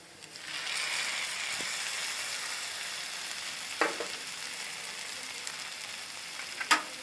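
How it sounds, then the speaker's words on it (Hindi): Onion and tomato mixture sizzling steadily in a pan over low heat for egg Maggi, a constant close frying hiss with a few brief stirring scrapes and clinks. "फिर इस प्याज और टमाटर के मिश्रण को हम 2 से 4 मिनट तक धीमी आंच में सेकेंगे"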